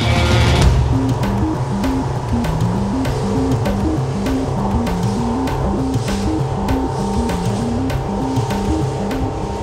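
A Cruise Craft 568ST trailer boat powers along on open water, its outboard engine droning steadily at speed beneath loud rushing wind and hull splash, with a repeating rhythmic slap of waves against the hull; no one speaks.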